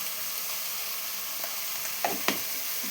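Okra fries with tomato and onion in a pan, giving an even, hissing sizzle throughout, with two soft clicks of a utensil against the pan near the end and no talking.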